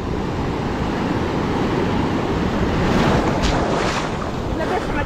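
Ocean waves break on a beach in a dense, continuous roar, loud and close, with heavy wind buffeting the microphone and brief voices in the background.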